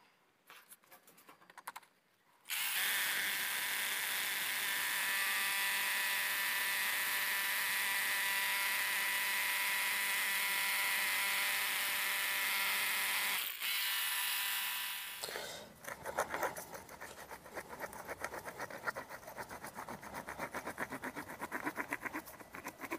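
A hammer drill bores a hole into concrete for a wedge anchor bolt, a loud steady grinding roar lasting about thirteen seconds, briefly pausing, then followed by rattling and scraping as the hole is cleaned.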